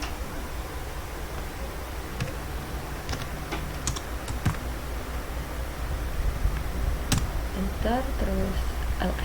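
Fast, uneven keystrokes on a computer keyboard as terminal commands are entered, a steady patter of clicks with a few sharper taps, close up over a constant background hiss.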